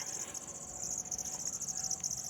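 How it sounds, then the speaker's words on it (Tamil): Crickets and other insects in a farm garden at night make a steady, high-pitched pulsing chirp that carries on without a break, fairly faint, with no one speaking. "பூச்சி சத்தமாக பார்த்தீங்களா?"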